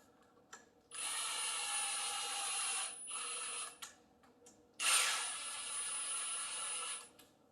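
A power tool runs in two sustained bursts, tightening down clutch bolts on a clutch that will not disengage, close and loud with a steady whine and a short pause between runs.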